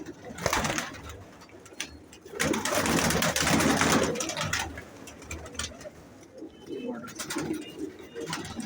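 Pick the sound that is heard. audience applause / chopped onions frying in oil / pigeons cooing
pigeons cooing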